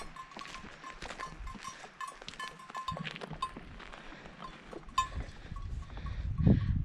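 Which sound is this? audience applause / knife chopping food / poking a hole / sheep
sheep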